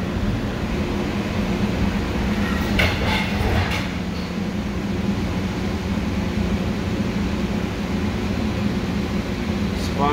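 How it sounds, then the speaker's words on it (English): An airport tram bound for the D gates at Las Vegas's airport rolls along with a steady, loud rail rumble and hum. Brief rattles and clicks come near the middle, and a voice talks faintly underneath. "Please stand clear of the tram doors."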